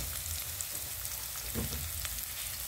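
Sliced onions added to a hot pan, sizzling with a steady bright hiss and a soft stir-like rustle partway through, heard close.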